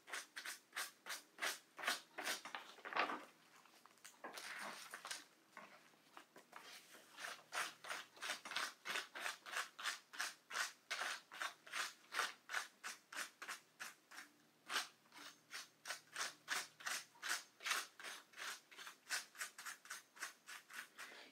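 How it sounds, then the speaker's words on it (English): Pounded leaf material scraped repeatedly onto wax paper, a steady run of close, crisp rasping strokes in a quick regular rhythm, alone with no voices. "And I'm just scraping it onto the wax paper that I use"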